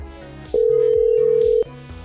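A phone ringing through a speakerphone gives a steady electronic ring tone that sounds once for about a second over a repeating musical background, then stops.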